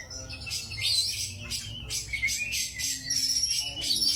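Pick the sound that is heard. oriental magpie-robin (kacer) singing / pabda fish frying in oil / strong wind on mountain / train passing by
oriental magpie-robin (kacer) singing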